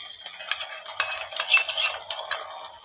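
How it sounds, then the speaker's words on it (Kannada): Onions frying in a pan for egg biryani, stirred with a utensil that gives repeated close scraping and clinking strokes over a soft, steady sizzle, with no voices. "ಸೊ ಈರುಳ್ಳಿ ಫ್ರೈ ಆಗ್ತಿದೆ."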